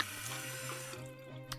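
Tap water runs steadily into a kitchen sink in Maine, a close, continuous gush with no voices that eases slightly toward the end.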